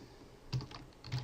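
Two short bursts of keystrokes on a computer keyboard, spaced about half a second apart, close and fairly quiet over a low background hum.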